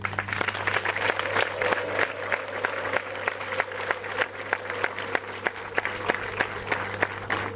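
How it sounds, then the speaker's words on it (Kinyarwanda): A church congregation applauds and ululates to welcome a vicar general at a Holy Cross celebration in Jali, with dense, sustained clapping close by over a steady low hum, sharp hand claps standing out. "tumwakira, tumuha amashyi n'impundu"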